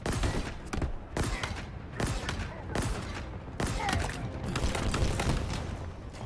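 Rapid gunfire in the video game Halo Infinite during a campaign fight, loud sustained volleys of shots with periodic heavier blasts, continuous and dense throughout.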